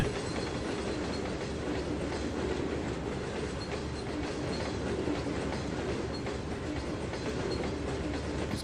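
Conrail hopper cars roll past in the Trainz 2022 railway simulator with continuous clickety-clack wheel rhythm and a faint squeal of wheels. The sound is steady and close throughout, with no voices.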